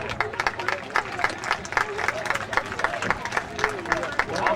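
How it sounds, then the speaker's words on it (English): Audience applause at a 2005 baseball awards ceremony and farm trophy presentation in Toronto, with a dense, steady wash of clapping and crowd babble filling the room at moderate volume throughout. "We can also give a round of applause to Dan Crow and his wife"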